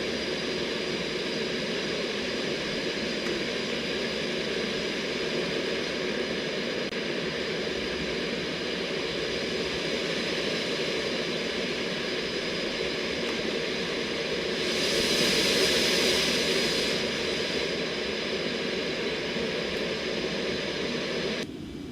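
The Concorde's jet engines roar in the X-Plane 12 flight simulator, a constant loud, broadband rushing drone that swells slightly midway, steady for over twenty seconds with no talk.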